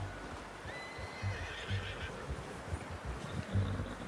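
Horse whinnies in Red Dead Redemption 2 at a quiet outdoor camp, one drawn-out neigh rising then falling, with soft hoof clip-clop and a low rumbling background.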